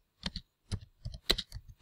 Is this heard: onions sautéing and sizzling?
no